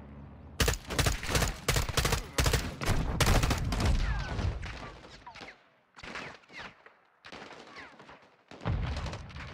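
Gunfire in the video game Call of Duty Modern Warfare 2, with a rapid string of loud close shots, then a short lull and scattered bursts of automatic fire, with faint talk in between.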